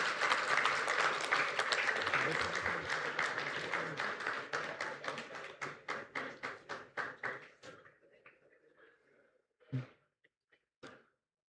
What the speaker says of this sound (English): Please give a big round of applause for Dr.